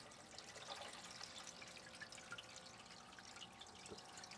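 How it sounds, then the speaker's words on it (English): Water runs steadily through a gold sluice, a faint, even rushing and trickling wash with scattered small splashes and no talk. "let's fire up the sluice. Get that water flowing."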